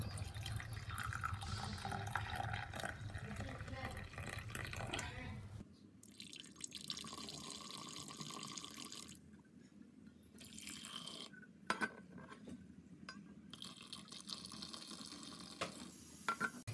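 Coffee filters through, a soft liquid trickle and dripping heard faintly and continuously against a low room background, with no one speaking.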